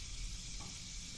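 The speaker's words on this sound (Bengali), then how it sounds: "এখন দিয়ে দেব গরম তেলের মধ্যে সবজিগুলো।" Vegetables for a bitter gourd and potato dish hit hot oil with a steady, broad sizzle, continuous and fairly quiet throughout, with no voices.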